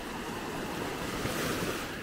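Sea waves wash onto the shore at low tide at Maspalomas in the Canary Islands. The roar of the surf is steady and broadband, with wind noise and no voices.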